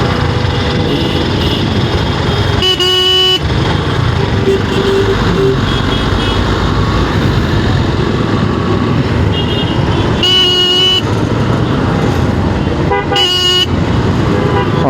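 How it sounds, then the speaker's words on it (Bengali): In city traffic at a signal, a motorcycle horn gives three short, bright honks spaced several seconds apart over constant engine and road noise. "হর্নের আওয়াজ শুনছেন?"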